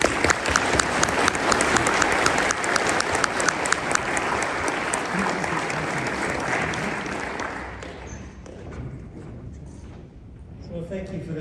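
An audience at a lecture applauds to welcome economist John Cochrane to the stage, a dense, loud sustained clatter of many hands clapping that tapers off near the end.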